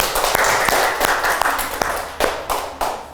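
A classroom of primary school pupils claps after a group presentation: a brief burst of applause with a few sharper individual claps standing out, fading toward the end.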